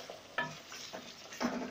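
Oil-glazed goat mutton fries in a pan with a soft, quiet sizzle, punctuated by three or four brief scraping knocks of a stirring spoon, heard close and alone.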